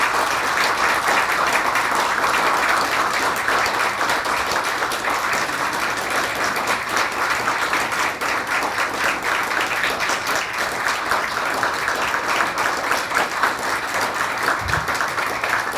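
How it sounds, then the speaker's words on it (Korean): Warm, continuous audience applause at a university professor's farewell lecture and retirement ceremony, dense even clapping held at steady volume for about fifteen seconds. "뜨거운 박수로 해주시면 감사하겠습니다."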